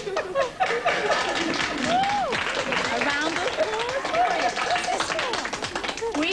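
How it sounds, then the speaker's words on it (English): A 1984 British television studio audience claps and cheers during a surprise reunion show, the applause mixed with excited exclamations, laughter and raised voices talking and calling out over it. "A round of applause."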